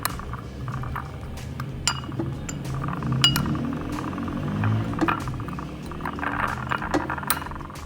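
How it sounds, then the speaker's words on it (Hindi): Ground spices being stirred together in a glass bowl for a fish fry rub, with repeated close clinks of a spoon against glass over a soft continuous scraping, quiet and alone with no talk. "अब सारे मसालों को मैं अच्छी तरह मिक्स कर लूँगी।"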